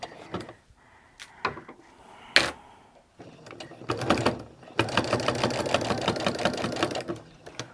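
A sewing machine stitches a quilted throw pillow in short bursts that start and stop, then settles into a long steady run of rapid mechanical clatter, close and fairly loud.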